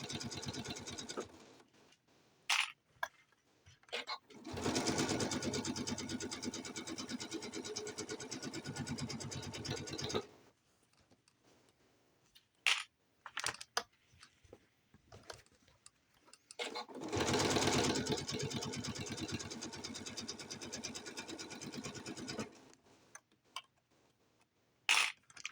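A sewing machine stitching the two sides of a reversible quilt together, two long steady runs of rapid mechanical whirring separated by pauses with scattered clicks and handling noises.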